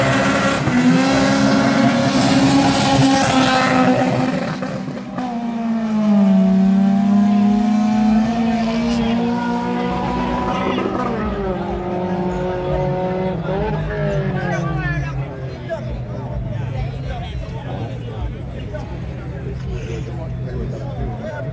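Street race cars in Montego Bay, Jamaica, rev and accelerate, their rising and falling engine notes carrying over continuous crowd chatter and talk nearby.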